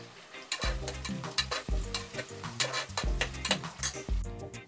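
Sliced onions and green chillies fry in a pan, a soft sizzle punctuated by rapid, rhythmic metal-on-metal stirring clinks and scrapes, close and fairly quiet, with no voices.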